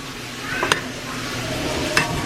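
Chopped sweet onion sizzles steadily in a hot pan while cooking for homemade pho, with a constant frying hiss and two brief sharp clinks of a utensil stirring against the pan.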